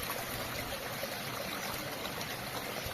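Water from a 50 mm pipe pours steadily into a 500-litre tank full of water hyacinth, making a continuous splashing trickle that stays even and close throughout.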